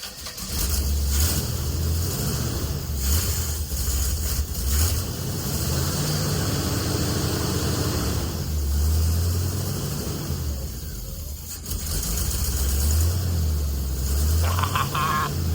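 C3 Corvette V8 engine, bought cheap and just revived, running with a steady low rumble and some uneven revving throughout.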